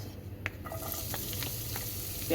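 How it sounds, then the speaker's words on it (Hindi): A chopped small onion sautés in hot oil, a steady soft sizzle with a few faint stirring clicks, close and quiet, no talk. "प्याज हमारी सौते हो गई है और आँच मैंने इसकी बिल्कुल स्लो कर दिया"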